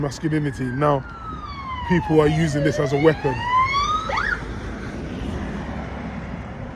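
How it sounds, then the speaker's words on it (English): An ambulance siren wails past during a man's monologue, its rising and falling tones sweeping loud over his talking and then fading away toward the end. "that was the ambulance."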